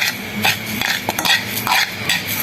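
Caramel being stirred in a pan for rabri, with repeated scraping strokes of a utensil against the pan over a soft sizzle, close and fairly loud.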